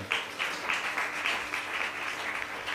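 A church congregation clapping to glorify God during a sermon, a brisk, fairly even patter of many hands at moderate volume, with no talk over it.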